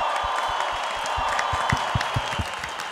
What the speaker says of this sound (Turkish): Aleyna Tilki büyük alkışlar